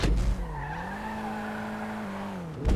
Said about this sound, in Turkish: Fiat Panda çıldırıyor